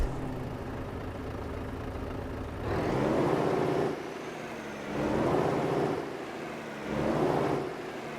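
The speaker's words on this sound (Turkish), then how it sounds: "Arabayı bir çalıştıralım bakayım." A Volvo FH16 truck engine in Euro Truck Simulator 2 idles with a low steady rumble, swelling into three loud revving surges with a slight pitch rise, then settling back each time.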